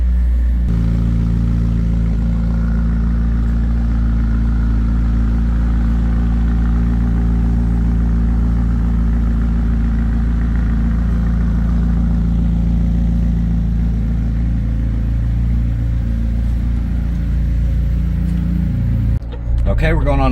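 A McLaren 600LT, purple 2020 car, rumbles with a steady low engine drone throughout, loud and close, continuous as on a short test drive.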